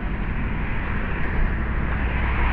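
A helicopter passes overhead above a park at dusk, a steady, loud, broadband rotor-and-engine rumble that holds without a break, with no voices over it.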